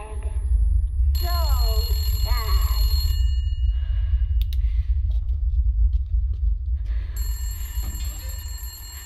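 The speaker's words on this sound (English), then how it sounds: "I don't even want to pick up that phone." A telephone rings inside the Resident Evil Village video game, with bright electronic chiming tones in two bursts over a constant low rumbling game ambience.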